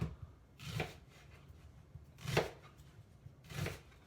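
A big onion chopped on a cutting board for homemade sweet potato soup, three separate knife strokes spaced about a second apart, close and crisp, with quiet gaps between them.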